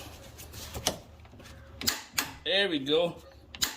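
A 3.8L Hyundai Genesis engine's crank pulley bolt is torqued to 224 foot-pounds, giving a few sharp ratcheting clicks and mechanical creaks, with someone speaking briefly close by.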